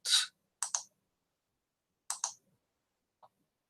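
Computer mouse clicks, a few short, crisp taps close by, mostly in quick pairs with pauses between them, in a quiet room with no talking.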